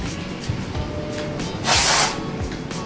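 A fragrant cleaning spray is squirted once during household cleaning, a short loud hissing burst under a steady background of room noise.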